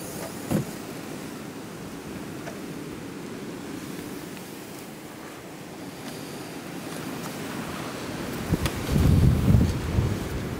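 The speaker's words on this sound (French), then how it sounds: "Toujours du vent," Steady roaring wind buffets the microphone throughout, with a louder rumbling gust swelling near the end.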